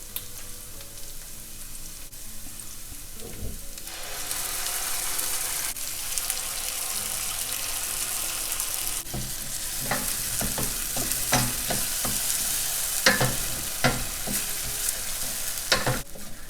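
Spice paste fries in a pan with onions, making a steady sizzle for the full stretch with scraping stirs and clicks of the utensil, while water briefly runs from a tap at the start.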